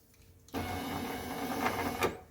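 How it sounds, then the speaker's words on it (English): A power window motor in a 1995 Mercedes E320 wagon runs briefly to lower the window during regulator work, a steady close mechanical whir with a slight strain near the end. "That way we can lower the window and easily reinstall the regulator into the window."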